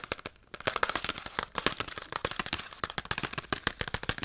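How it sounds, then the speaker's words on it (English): Rapid, crisp fingernail tapping on packaging from a foreign snack haul, sharp clicks in quick uneven bursts with brief pauses, close and intimate, with no talking. "Decent tapping sound also"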